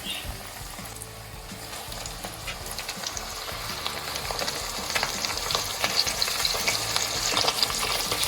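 Breaded chicken for broasted chicken frying in hot oil, a steady close crackling sizzle that grows slightly louder over time, with no talking.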